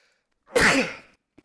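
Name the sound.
sneeze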